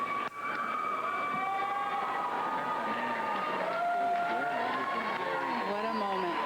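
Arena crowd noise at a men's free skate figure skating event, a steady wash of cheering and applause that fills the space under a commentator's talk.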